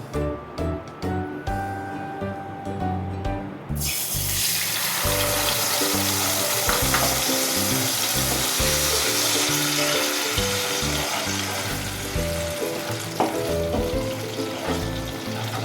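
A paste of ginger, garlic, onion, clove and green chili hits hot oil for okra dorma, bursting into a loud, steady, continuous sizzle that stays dense throughout, with some clattering at the start.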